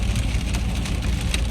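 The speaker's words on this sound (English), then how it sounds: "It is pouring rain today." Heavy rain pours down in Gatlinburg, a steady, dense hiss and rumble of downpour, loud and close, with no talk.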